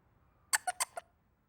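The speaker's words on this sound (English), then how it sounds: "squeaky dog toy" A squeaky dog toy squeezed four times in quick succession, sharp high-pitched squeaks close by against near silence.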